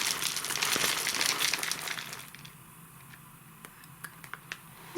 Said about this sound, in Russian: и из пакета насыпаю кору